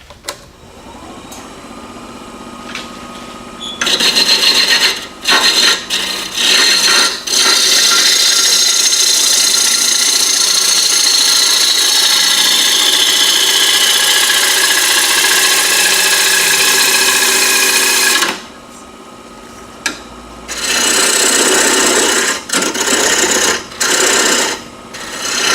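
A wood lathe turns a bowl as a tool cuts the tenon on its bottom, giving a loud, steady scraping whir in long runs, with a brief pause and shorter bursts near the end.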